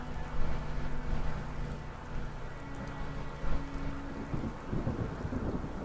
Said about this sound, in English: Oh hell, it's raining.